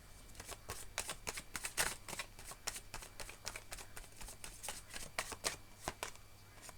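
Tarot cards shuffled by hand in a steady run of crisp riffling flicks, close and fairly quiet, with no voice.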